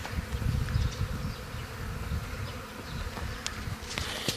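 A honeybee swarm hums continuously and loudly during beekeeping in Georgia, a dense steady drone with a few sharp clicks and knocks near the end.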